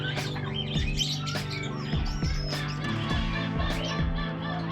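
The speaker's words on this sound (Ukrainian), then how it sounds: "Ну і самі звичайнісінькі індики." Repeated gobbling turkey calls on a farm in Peru, fairly close, over a steady low hum, with sharp bursts recurring every second or so.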